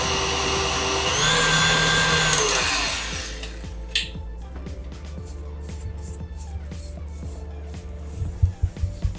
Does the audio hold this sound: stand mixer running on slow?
yes